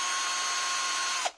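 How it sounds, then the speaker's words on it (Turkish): An SGS Plus 5131 cordless screwdriver runs with a steady, high electric whine and a buzzing vibration like an impact drill. After about a second it spins down and stops abruptly. "Bu bildiğiniz titreşimli, sanki darbeli matkap gibi çalışıyor."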